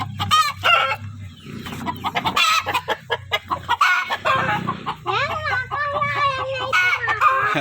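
Laying hens on an egg-laying poultry farm cluck repeatedly at close range, with a rooster's crow rising among them and a busy, overlapping flock chorus throughout.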